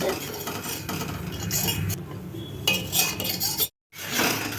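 A spoon stirs and scrapes milk around a pan as it reduces into milk khoa, with steady close scraping and clinking, a brief gap near the end, and faint sizzling underneath.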